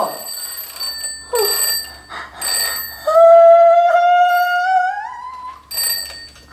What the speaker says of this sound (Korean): 이거 자명종 이거 이거 누가 넣어놓고 갔나 보네